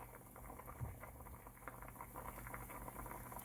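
A pot of water boils for cooking lobster tail, giving a soft, continuous bubbling patter with small irregular pops, quiet and close, with no talking.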